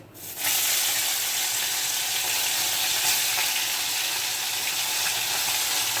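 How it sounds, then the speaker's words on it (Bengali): Small mourala fish hit hot oil in a wok and break into loud, continuous sizzling that stays steady and close, with no talk over it. "এখন এখানে মাছগুলো অল্প অল্প করে হালকা করে ভেজে নেব"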